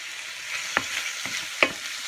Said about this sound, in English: Stir. Now what I'm looking for now is for my prawns to just start to go pink, just a little bit.